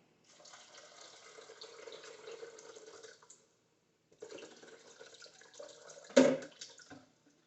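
Water pours steadily in two separate runs with a short pause between, and a sharp knock near the end of the second pour.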